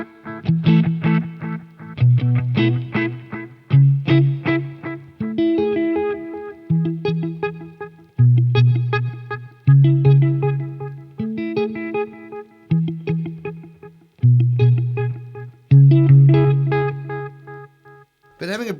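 Electric guitar played through an MXR Carbon Copy analog delay pedal with its bright switch on, plucked notes and chords ringing in short phrases with a clear repeating echo trailing each one.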